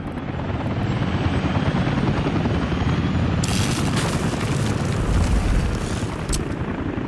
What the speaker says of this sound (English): we have helicopters doing the work they're supposed to and flying around a whole lot